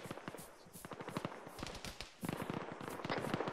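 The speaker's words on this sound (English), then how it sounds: "We have fire from the construction site." Distant gunfire in a realism military shooter game: uneven bursts of sharp cracks and rapid automatic fire that thicken into denser volleys toward the end, with no voices.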